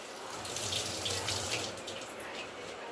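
Water runs steadily from a tap or is poured, a continuous splashing hiss onto frozen ice in a kitchen while a sandwich is being made, close and fairly quiet with no talk.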